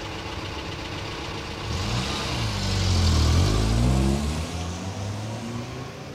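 A car engine idles, then revs up and swells louder as the vehicle pulls away, its deep rumble peaking mid-clip before easing off into the distance.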